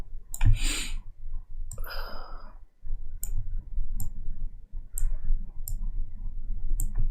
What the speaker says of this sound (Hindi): यहाँ पे क्लिक किया मैंने और मैं नीचे की तरफ ड्रैग कर रहा हूँ